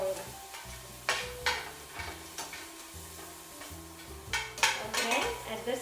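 Shrimp sizzle in hot oil for shrimp saganaki as a utensil stirs them, giving a steady close crackle broken by sharp clanks and scrapes against the pan at irregular intervals.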